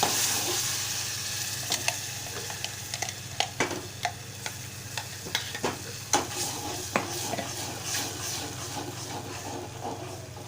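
Blended spinach paste sizzles steadily in a pan while a utensil scrapes and taps against it in irregular strokes, close up, with no voices.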